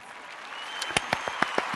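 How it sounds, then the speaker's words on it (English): Scattered clapping in a room of gathered men after an introduction, starting faint and thin, then a handful of distinct, fairly close claps rising over soft background murmur. "Please give a big round of applause for Mr."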